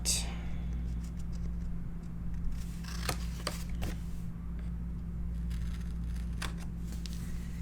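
Scissors trim the corners of paper flaps on a handmade mini album, giving a few crisp, close snips clustered together over a low steady background hum.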